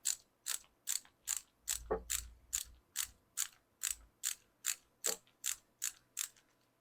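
A ratchet tool backs out a corroded part of a 2-stroke small engine carburetor with a long run of about fifteen evenly spaced, crisp clicks, close and alone in a quiet room.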